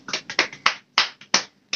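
Hands clap in a quick, uneven burst of about eight sharp, close claps, each crisp and short with brief silent gaps between.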